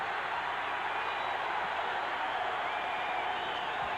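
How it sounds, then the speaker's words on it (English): A basketball arena crowd from a 1984 Rockets versus Celtics NBA game chants and roars for defense, a steady sustained wash of massed voices throughout, moderately distant and even in level. "Crowd wanting some defense by the Rockets."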